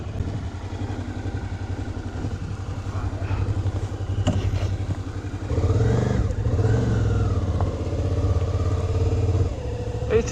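A Suzuki V-Strom 650 XT motorcycle engine runs steadily at idle with a low, throbbing pulse, gets slightly louder partway through, and a voice talks faintly over it.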